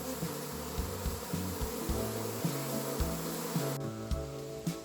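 Swarming honeybees from a struggling hive, gathered high up in a tree, fill the air with a dense, steady buzzing hum, with the drone of wings rising and falling slightly throughout and no talking.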